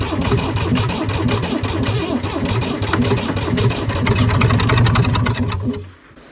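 An old engine that had sat abandoned for 18 years runs and revs up, giving a loud, rough, steady mechanical drone up close that rises in speed before cutting out abruptly near the end.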